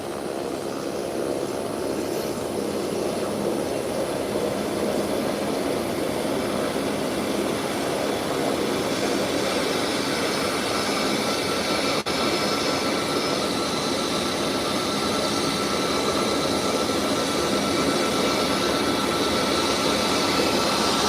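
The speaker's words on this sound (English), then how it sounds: "the Beechcraft 1900 has taken a position on the ramp, on the runway rather" A Beechcraft 1900 turboprop sits on the runway, its engines producing a steady, loud droning whine with a rising hiss that holds for the full stretch, with no talking.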